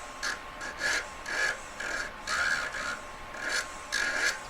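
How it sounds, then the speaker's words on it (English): A rubber polishing wheel grinds a solder line away on a metal four-claw jewellery collet. It gives a faint, rhythmic rasping in repeated short strokes, roughly two per second, over a quiet steady hum. "Rubber wheeling the solder line away, gets it really sharp"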